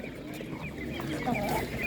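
Hens clucking at a livestock market among other farm animals, a steady busy din with voices talking over it throughout.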